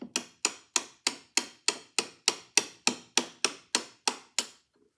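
A brass rod taps repeatedly on a part of an Amberola phonograph, giving about fourteen sharp, evenly spaced metallic knocks in a steady rhythm, close and clear with no talk.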